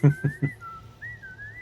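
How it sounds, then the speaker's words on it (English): A character in Baldur's Gate 3 whistles a light, bouncy tune with a few soft thumps at the start, fairly close and clear. "Whistle a jaunty tune."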